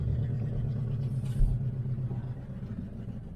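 A 1973 Pontiac LeMans engine with a carburetor, run after sitting 25 years, idles with a steady, close, low rumble and a brief bump in the middle, with no talking.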